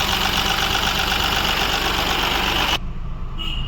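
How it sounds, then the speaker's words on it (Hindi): Mahindra Bolero Neo engine idling, a steady, loud, close mechanical drone that runs without a break and then drops noticeably quieter near the end, with no voices. "जैसा कि देख सकते हैं आप लोग, कार मेरी स्टार्ट है अभी भी।"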